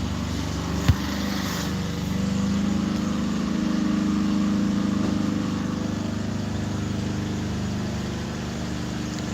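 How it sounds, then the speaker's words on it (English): Lawn mower cutting grass nearby at a campground, a steady droning engine rumble that holds for several seconds after a brief knock, moderately loud and continuous. "The man cutting the grass over there."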